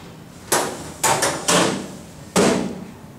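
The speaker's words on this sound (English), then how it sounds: "When you're done, go ahead and close the door." Several sharp metallic clunks and bangs ring out, four or five in quick succession, as the door of an Insinger Commander 18-6 dishwasher is closed and latched.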